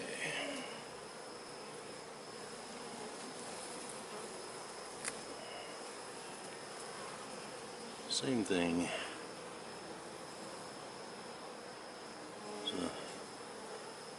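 Honey bees buzz in a dense, steady hum from an open hive during an August inspection, heard close and continuous, with someone briefly speaking over the drone.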